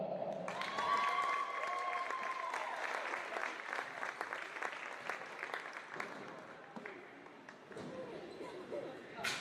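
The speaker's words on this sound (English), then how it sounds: "let's give it one more round of applause for the class of 2026" Crowd applause and cheering fill a high school gym during a volleyball match ceremony, sustained and moderately loud, with a voice over the crowd near the start and a brief lull later.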